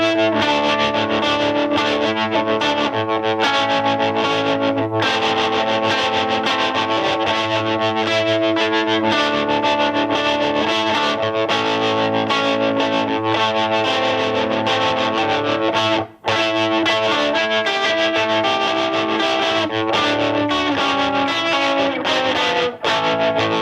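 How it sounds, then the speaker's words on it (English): Choppy tremolo pulses through a driven, slightly distorted electric guitar played through a vintage 5 watt amp, loud and steady for over twenty seconds with no voices. "This amp also features a nice choppy sounding tremolo"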